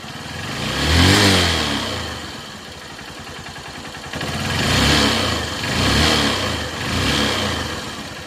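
A Honda CB 125 E motorcycle engine idles roughly after a carburetor air adjustment and is revved up four times in short bursts, each rise swelling loudly then falling back, close by with no talk.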